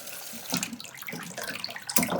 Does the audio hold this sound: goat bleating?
no